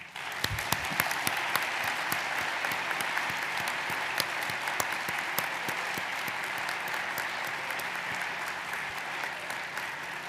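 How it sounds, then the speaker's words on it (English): Steady, dense applause from a commencement audience honoring faculty and staff, a sustained even wash of many hands clapping throughout with no talk over it. "Please join me now in giving the faculty and staff a big round of applause"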